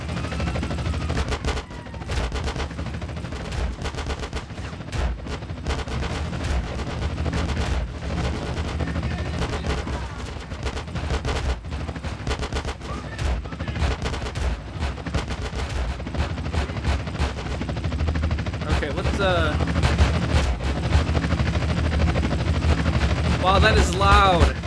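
Gunfire fills a GTA San Andreas gunfight, with dense, continuous shots and rapid bursts against a steady rumble that could be a helicopter overhead, loud throughout, and voices talk intermittently over the noise.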